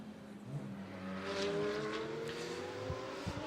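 A Mercedes GT race car idles and revs in the pit lane during a full-service stop at the Estoril 12-hour endurance race, with its engine note rising gradually alongside faint clanks of pit work.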